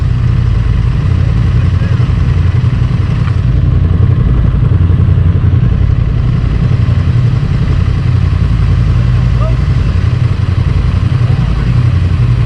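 A Honda Transalp motorcycle engine rumbles loud and steady on a test ride, with dense low-end drone and constant road and wind roar throughout.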